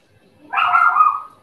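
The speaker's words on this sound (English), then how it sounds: "Let me know if my dogs are annoying." A pet dog gives a single drawn-out yelp or whining bark, close and fairly loud, lasting under a second with no talk.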